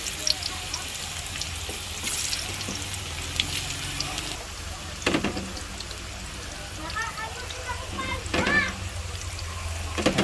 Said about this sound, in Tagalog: mainit na po yung ating kawali lagyan na po natin mga patatas natin.